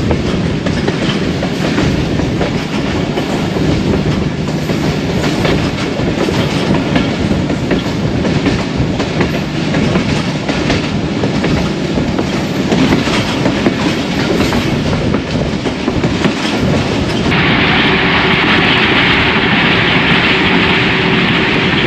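The 122DN Ravi Express passenger train runs at about 65 to 70 km/h through forest, a loud, continuous roar of wheels and rail clatter heard from on board, with a brighter hiss and rush taking over near the end.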